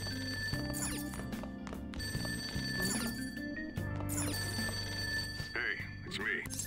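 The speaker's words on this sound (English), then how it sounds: "That ringing sound isn't coming from my cell phone." A telephone rings in Persona 5 Royal, repeated bright ringing bursts over in-game music, while a person talks over it.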